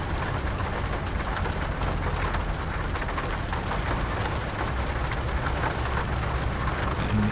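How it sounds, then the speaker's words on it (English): Steady rain in the trucking video game American Truck Simulator, a constant even hiss of falling drops pattering on surfaces, moderately loud and unbroken, with no voices. "Listen to the sound of that rain."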